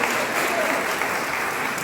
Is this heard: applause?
yes